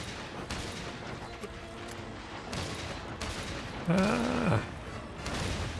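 Gunfire from a shooter video game while fighting monsters, short bursts of shots under continuous game noise, with a man's brief exclamation and a loud rising-falling tone near the end.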